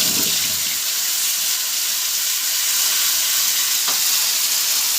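Cumin and a ground spice paste fry in hot oil in a pan, a loud, dense hiss that stays constant and close throughout, broken only by a faint knock near the end and no voices.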